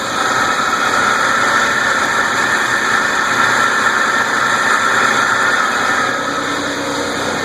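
A Honda Passport engine idles steadily with no belt squeal after a new serpentine belt and tensioner pulley, giving a loud, even hum and whir close by with no talk.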